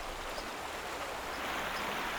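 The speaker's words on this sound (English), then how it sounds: "The first rain, after 4 months." After four dry months the first rain falls and water runs fast along a riverbed, a steady broadband rushing hiss, fairly even and close, with no voices.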